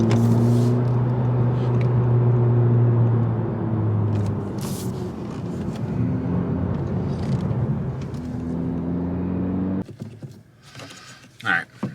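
Engine of a 2020 Honda Civic Si with a clutch problem and hanging revs, droning steadily with rising and falling harmonic tones while driving, loud inside the cabin, then dropping away near the end.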